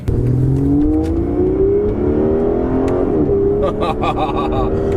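An Aston Martin Vanquish engine pulls at about 40% throttle, a loud, steady rising growl with climbing pitch and a brief dip near the middle, close up from inside the car.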